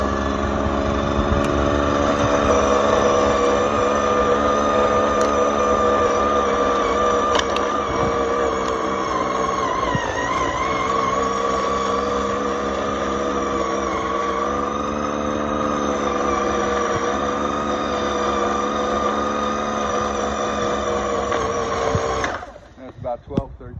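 Snow blower running with its auger engaged, a loud, steady mechanical whine and engine drone with a brief dip midway, close and continuous before cutting off near the end.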